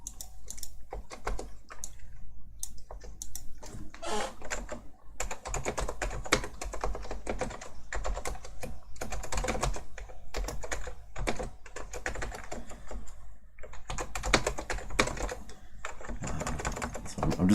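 Code being typed on a computer keyboard in a lecture setting, fast close clicky keystrokes in irregular bursts with short pauses, and occasional talk mixed in.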